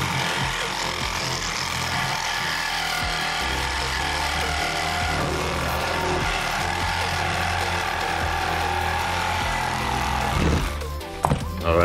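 A Milwaukee M12 Hackzall reciprocating saw rattles continuously, loud and close, as it cuts through a wood stud and nails, then sputters into a few uneven bursts near the end.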